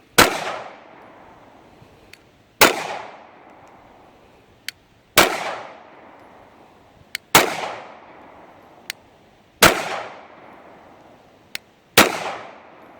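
A Sig P226 TACOPS pistol fired at an outdoor range: six loud, sharp shots spaced about two seconds apart, each with a short ringing decay, plus fainter clinks between them.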